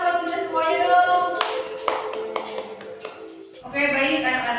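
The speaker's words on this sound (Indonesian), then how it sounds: "tepuk tangan buat kita semuanya dong" A classroom applauds during a peer-teaching practice session, a few scattered sharp claps heard close and mixed with sustained tonal sound, and a voice speaking at the very end.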